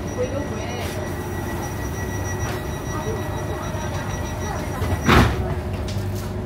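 Bangkok airport rail link train running, a continuous low rumble and hiss inside the carriage with a brief louder burst near the end and faint voices in the background.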